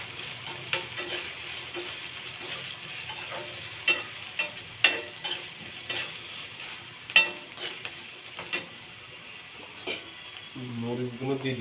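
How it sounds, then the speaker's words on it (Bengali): Potatoes fry in a pan and are stirred with a utensil, a steady sizzle broken by scraping strokes and clacks; a voice speaks briefly at the end. "আলুগুলো হালকা ভাজি"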